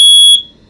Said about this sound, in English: When you click it in, it should do a chirp.